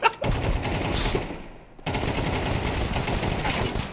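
Rapid video game gunfire rattles in dense automatic bursts, broken by one short gap, loud and continuous for most of the stretch.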